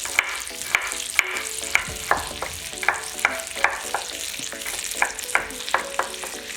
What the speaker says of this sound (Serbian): Dok se meso prži